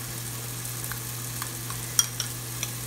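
Tomatoes and chopped pineapple fry quietly in a pan for a Kerala-style beef dum biryani, giving a low, even sizzle over a steady hum, with a few light stirring ticks and no talking.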